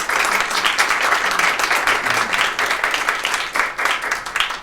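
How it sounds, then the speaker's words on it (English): Audience applause for a panel at an education policy event held by the Shanker Institute and the American Federation of Teachers: a dense, steady wash of many hands clapping, fairly close and loud throughout. "give the panelists a round of applause"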